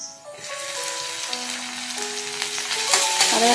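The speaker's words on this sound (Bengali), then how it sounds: "যাতে আদা বাটা কিন্তু খুব ভালো করে ভাজা হয়ে যায়" Ginger paste for chicken biryani sizzles loudly in hot oil, with steady stirring scrapes and a bright frying crackle that builds toward the end.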